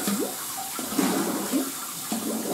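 Cold water running from a tap in a bathroom during a shave, a steady close splashing stream with a few gurgling, rising tones as the flow hits the basin, no talking.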